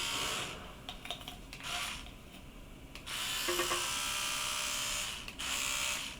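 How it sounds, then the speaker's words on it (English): An electric toothbrush spatters orange luster colour onto a hot cocoa bomb mould as the mould is rotated, giving a buzzy hiss in steady bursts with short pauses, close and fairly quiet, with no talking. "Oh, and of course, I'm using my toothbrush,"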